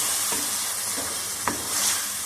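Moong dal roasts in a pan over a low flame, giving a steady dry sizzle with a few soft scraping strokes of a spoon stirring the lentils, close and even.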